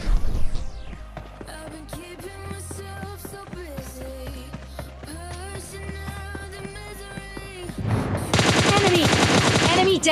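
A shotgun and other weapons fire in rapid bursts of loud, close gunfire in PUBG Mobile Lite, with game music and tones running underneath and a dense burst of shots near the end.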